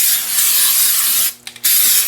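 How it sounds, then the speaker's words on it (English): Spray-on detailing wax is sprayed inside the metal blower box of a snowblower, a loud close hissing spray with one brief pause before spraying resumes. "I'm going to take some of this spray-on detailing wax, and I'm just going to give the insides here a good spraying"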